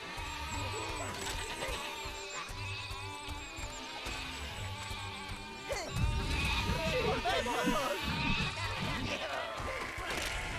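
Sheep in the video game Overlord bleat repeatedly, wavering cries rising over game sounds and a talking voice, louder and denser in the second half.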